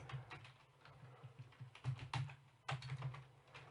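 Quiet keystrokes on a computer keyboard come in quick irregular bursts with brief pauses, close and fairly soft, with no talking.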